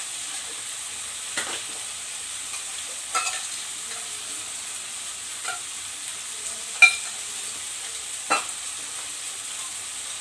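Jackfruit and potato curry with tomatoes cooking in a pan, a soft continuous sizzle with a few brief stirring scrapes spaced apart, close and moderately quiet, no talk.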